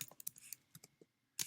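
Fingers tap a computer keyboard in a few quick, scattered clicks, close and quiet, with short pauses between keystrokes and no talking.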